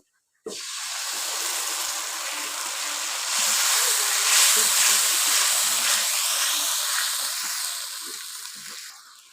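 A blended paste of raw and ripe tomato, dried chili and nuts hits hot oil and bursts into a loud, steady hissing sizzle that holds for several seconds, swells midway, then slowly eases.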